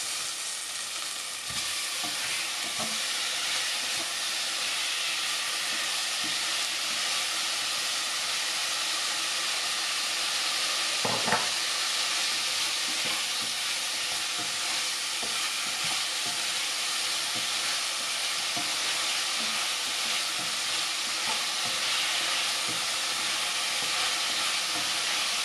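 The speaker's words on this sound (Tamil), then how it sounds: "இப்போ தக்காளி வதங்கட்டும்." Tomatoes sautéing in a pan for Chettinad chicken kulambu, a loud, continuous frying hiss that holds steady throughout with a few faint stirring clicks.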